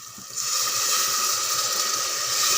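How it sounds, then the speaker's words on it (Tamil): Water poured into a pot of cooking tomatoes for tomato rice gives a sudden, steady rushing hiss that starts after a quieter moment and continues unbroken, close and fairly loud. "இந்த டைமில் நம்ம தண்ணி விட்டுடலாம்."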